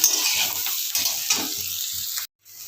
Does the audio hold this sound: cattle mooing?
no